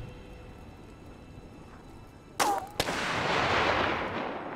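A sniper rifle shot in This War of Mine cracks sharply once, followed moments later by a second short crack, with a long booming echo rolling out after it against a quiet background.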